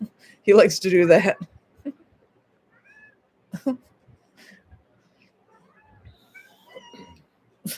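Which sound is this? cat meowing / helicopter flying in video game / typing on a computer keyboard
cat meowing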